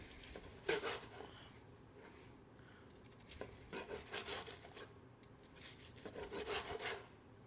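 A knife draws through a cooked tomahawk steak, cutting slices away from the bone in a few rasping, sawing strokes that come in short bursts with pauses between them, close and fairly quiet, with no voices.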